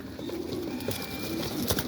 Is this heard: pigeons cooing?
yes